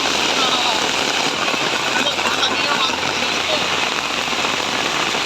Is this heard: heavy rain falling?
yes